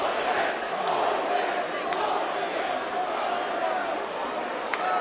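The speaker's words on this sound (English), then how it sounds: "And the crowd responds, as you can hear" A boxing arena crowd roars and murmurs in reaction to the decision in the 2006 Ike Quartey vs Vernon Forrest fight, a sustained broad rumble of many voices with a commentator talking over it.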